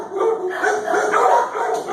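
An old female dog found in a field and held at the Olathe animal shelter barks and whimpers in steady, close yips and whines, with no talk over it.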